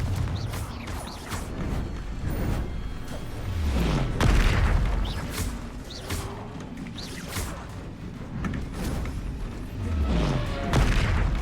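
Confringo and Bombarda spell blasts in a Harry Potter video game land as repeated booming explosions with whooshing sweeps, dense and continuous amid game mechanisms, with no talk over them.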